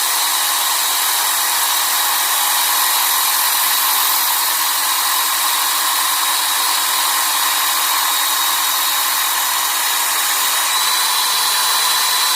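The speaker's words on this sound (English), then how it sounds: "belt grinder. So here we go. Just trying to get a burr, a little tiny burr." A belt grinder sharpens a steel broadhead, raising a fine burr on the edge; a steady, loud broadband whir and hiss holds even throughout with no pauses and no voices.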